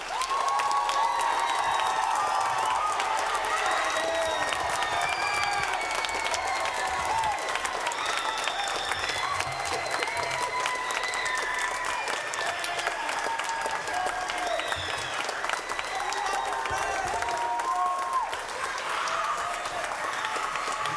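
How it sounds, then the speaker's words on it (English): Audience at a high school spring band concert applauding steadily for a long stretch, dense sustained clapping with a few cheers and shouts mixed in, loud and continuous. "could you please give him a round of applause for all he has done for our"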